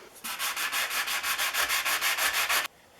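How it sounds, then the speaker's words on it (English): Rapid, rhythmic back-and-forth scratching of 1000-grit sandpaper and a sanding sponge on a Stanley No. 20 1/2 circular plane, about a dozen quick strokes, close and steady, then stopping. "The sanding sponge and 1000 grit paper did a fine job."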